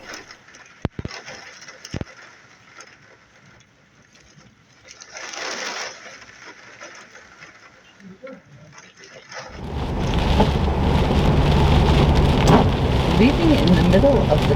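Heavy rain from a tropical storm on the Outer Banks begins partway through, rising from a quiet stretch with a few knocks into a loud, steady broadband downpour that continues to the end.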